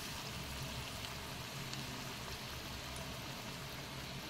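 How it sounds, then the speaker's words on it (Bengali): Banana fritters frying in hot oil, a steady, close, continuous sizzle that holds at an even level throughout, with no talking over it. "এইভাবে একে একে সমস্ত বড়াগুলোকে ভেজে নিচ্ছি।"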